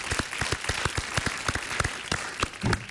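A studio audience applauds during a Greek New Year television interview, a steady patter of individual claps, fairly close and uneven, continuing for several seconds without talk.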